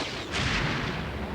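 A heavy gunshot from a trailer for the 1993 film Sniper booms out at close range and rolls into a rumbling echo.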